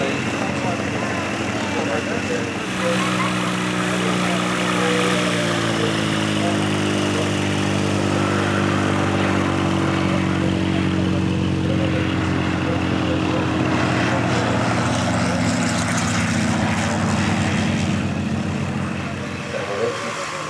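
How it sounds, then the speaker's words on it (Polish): A steady engine drone with rising and falling harmonic tones from a PZL M18B Dromader propeller plane running up or passing, continuous and fairly loud under faint talk. "To jest samolot, y, samolot Marka Szuchy"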